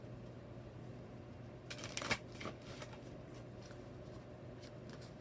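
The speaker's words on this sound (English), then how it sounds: "I'll give this 3 more shuffles and then a cut" A deck of tarot cards riffled in a short quick burst, a soft flutter of cards snapping together near the middle, then quiet, faint and close.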